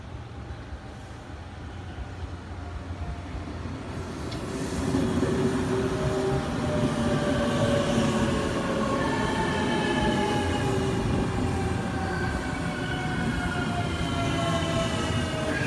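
A JR limited express Shinano bound for Nagano pulls into Kiso-Fukushima station on the Chuo West Line, a steady rumble of wheels on rails with rising squeals and tonal whines as the cars roll past close by.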